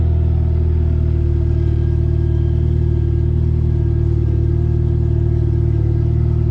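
A K24 engine swapped into a 1983 Volvo 240 runs at its first start, a loud, steady, close-up drone with a strong low rumble that holds unchanged throughout.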